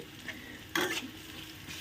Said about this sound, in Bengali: আমি কিন্তু অলরেডি পেঁয়াজটা ভাজা শুরু করে দিয়েছি